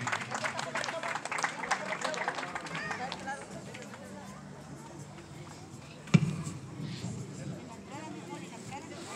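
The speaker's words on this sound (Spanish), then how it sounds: "Un fuerte aplauso para la festejada Cristal y María Nieves" Clapping at a three-year-old girl's birthday party as she arrives, dense and lively over the first few seconds and then thinning out, mixed with a crowd and talking voices, with one sharp knock near the end.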